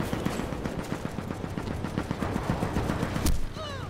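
Rapid automatic gunfire rattles in tight, continuous bursts in the Warface shooter game, with one louder shot near the end before it cuts off.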